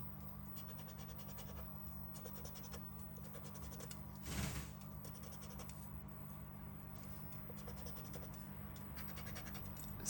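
Lottery scratch card being scratched with a coin or fingernail, a steady rasping scrape running throughout at close range with one slightly louder stroke midway, no talking.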